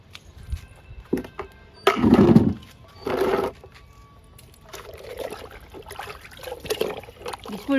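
Liquid fertilizer pours onto tomato plants in a few separate splashing bursts, each a second or so long, with quieter trickling and rustling between them, close by.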